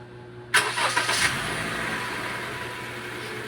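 A Honda BR-V engine cranks and catches after a moment of quiet, revs briefly in a few surges, then settles into a steady, smooth idle.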